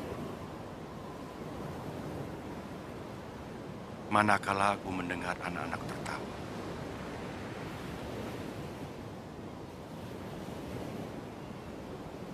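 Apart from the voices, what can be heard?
roar of ocean waves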